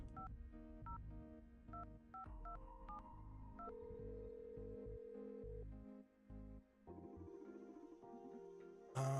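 Telephone keypad tones dialing a call in the video game The Red Strings Club: a quick run of separate DTMF beeps, then a steady ringing tone with a low musical background beneath.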